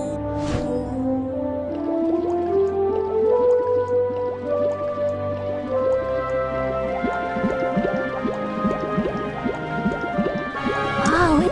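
Water splashes and drips during a toy pony's grooming shower in a Disney Princess Palace Pets playset, with wet squishing and gurgling trickles running continuously and fairly close.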